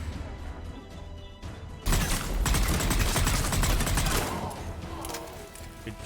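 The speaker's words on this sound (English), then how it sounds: "Watch out for that turret." Turret gunfire in Mass Effect 3 bursts out loud after a quieter stretch, a dense crackling volley of rapid shots that carries on for several seconds before easing off.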